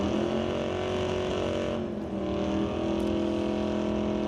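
A Dodge Dart drag race car at an NHRA Northwest National Open Series race holds a loud, steady engine drone with strong harmonic tones, briefly dipping midway before resuming, with no talk.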